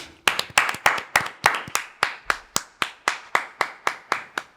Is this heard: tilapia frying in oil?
no